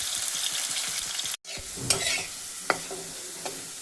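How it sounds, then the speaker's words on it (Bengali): Potatoes fry in hot oil in a pan while being stirred, a loud close sizzle with rhythmic scraping strokes, a brief silent break, then sizzling continues with a few sharp utensil knocks. "প্রথমে আলুগুলোকে একটু ভেজে নিচ্ছি"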